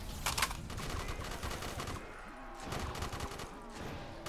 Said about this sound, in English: I just need to make sure I'm shooting all the cheese cubes.